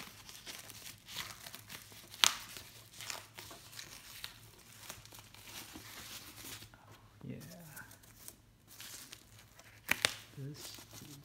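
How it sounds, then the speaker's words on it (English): Xbox One X Project Scorpio Edition console packaging being torn open, crinkly tearing and crumpling of plastic and cardboard with a couple of sharp rips, close by, with someone talking at times. "Tearing into it."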